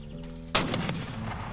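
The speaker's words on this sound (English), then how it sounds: "The shotgun was more forgiving, and it was one of the most lethal firearms on the western frontier." A western double-barreled top-break shotgun fires one loud, booming blast partway through, and its rumbling echo trails off afterward.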